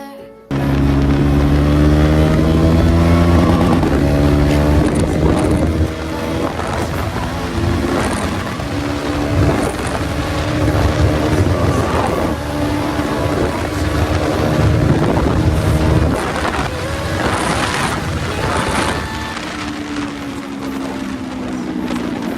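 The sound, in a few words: KTM Duke 390 motorcycle riding without exhaust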